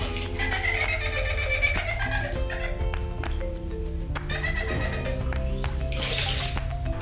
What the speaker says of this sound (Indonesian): suara mirip ketawa kuntilanak itu kembali keluar